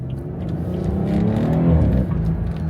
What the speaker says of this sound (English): Before I was saying, the car sounds good enough stock